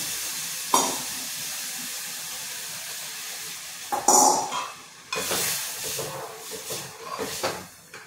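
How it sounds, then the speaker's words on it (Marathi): Lentil dal with boiled beans comes to a boil in a pot, giving off a steady hissing bubble. Louder spluttering bursts break in now and then toward the end. "हे बघा आता आपल्या डाळीला उकळी आली"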